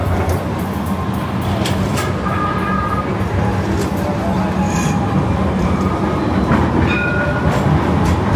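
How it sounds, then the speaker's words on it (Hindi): Tram running along an Istanbul street, its steady rolling rumble and rail clatter continuous and fairly loud for the whole stretch, with faint higher squeals and city traffic blended in. "ये इधर ट्राम चलती है।"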